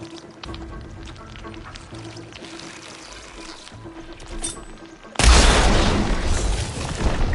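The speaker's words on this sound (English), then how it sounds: "It's gonna explode." A video game explosion hits with a sudden loud, broad boom partway through, then a sustained roaring wash. Quieter in-game ambience and faint voices come before it.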